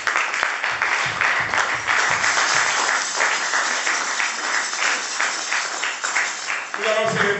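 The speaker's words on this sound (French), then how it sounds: "Nous acclamons la parole de Dieu." A church congregation applauding, steady dense clapping that fills the room, with voices heard over it near the end.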